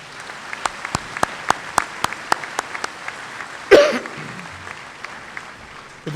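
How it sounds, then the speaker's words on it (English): At a high school commencement ceremony, the audience gives sparse, scattered claps spaced out over several seconds, with a cough or throat-clear in the middle, against a quiet, roomy hall. "How about another round of applause?"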